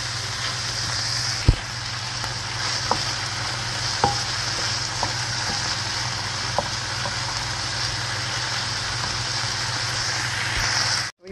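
Pork meat frying until brown crackles with a steady close sizzle, broken by a few sharp clicks of stirring over a low continuous hum.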